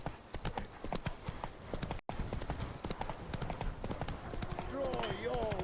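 Horse hooves clip-clopping at a gallop in The Witcher 3, a fast, steady run of close, loud hoofbeats with game ambience, and a brief whinny-like tonal call near the end.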